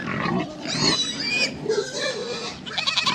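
Pigs on a farm oink and grunt close by in a busy run of snorts and squeals lasting a few seconds.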